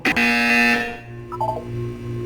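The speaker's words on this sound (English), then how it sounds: "You will hear a buzzer." Loud electronic buzzer from a Portal 2 test chamber, one steady harsh tone held for under a second, then lower hums and faint electronic blips trailing after.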